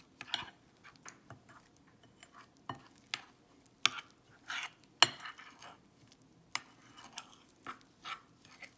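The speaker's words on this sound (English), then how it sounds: "I'm going to pour the butter in the pan, the pie pan, and I'm going to mix everything together" A utensil scrapes and taps against a pie pan while almond flour crust is mixed with melted butter, giving sparse, irregular clicks and clinks at close range with quiet pauses between them.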